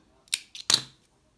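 Scissors snip through crochet yarn in three quick, crisp cuts close to the listener, the last one the loudest, followed by quiet.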